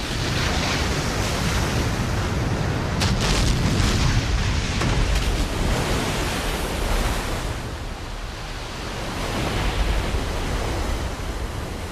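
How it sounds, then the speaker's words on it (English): Ocean waves crashing against the shore, a loud broadband roar of surf with a heavy rolling surge partway through before settling into a steady wash, no voices present. "Ocean waves driven outward from fierce storm centers often travel for a week or more until they explode against the land"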